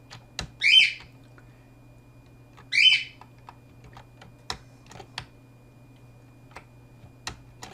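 A pet bird squawks indoors in two loud bursts about two seconds apart, with soft keyboard clicks and a steady low hum in between.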